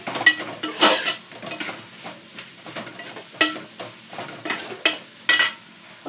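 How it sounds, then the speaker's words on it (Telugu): Crabs cook in a pan with oil, with irregular metallic scrapes and clanks of a stirring utensil over a light background sizzle, close by and without talk. "అవి ఎండ్రాయిలు వేసి వండుతున్నాను అన్నమాట."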